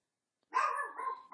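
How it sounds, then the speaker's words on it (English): A dog barks up close in one loud, sustained burst that trails into a slightly quieter whining bark, standing alone with no talk over it. "And that's our dog, and so you're going to hear the dog in this."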